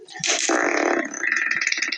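A loud, sputtering fart with a rasping, rippling texture that trails off into rapid little pulses, close to the ear.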